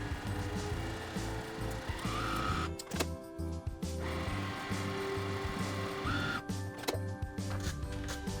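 A sewing machine stitches quilt block pieces together in quick, even mechanical bursts, its rapid needle rhythm pausing briefly twice before starting up again, close and fairly quiet.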